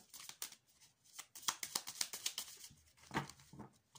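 Tarot cards are cut and handled in quick, faint papery riffles and slaps, a short run of soft bursts close by in a quiet room.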